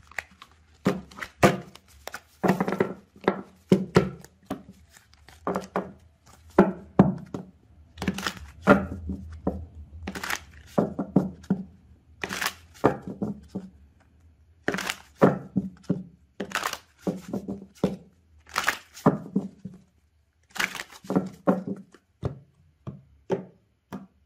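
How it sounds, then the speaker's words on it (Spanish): Tarot cards are shuffled by hand, a long run of quick, crisp slaps and riffles in irregular bursts, close and clear with brief pauses between. "Segundito, nada más, déjenme mezclar mis cartas"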